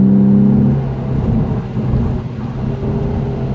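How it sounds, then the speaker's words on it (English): Lexus IS250 engine heard from inside the car during paddle-shift downshifts and upshifts, a low droning hum that dips and rises in pitch over a few seconds, with no speech. "let me see if I can downshift and upshift a couple of more times here while you guys are watching"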